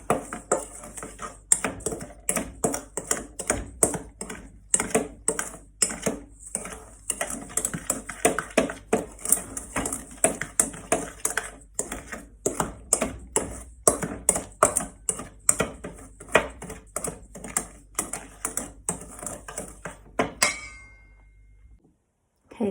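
Sweetener being mixed into gluten-free, sugar-free vegan hot cross bun ingredients, a steady run of close, quick clicking and scraping strokes repeated for about twenty seconds before stopping abruptly.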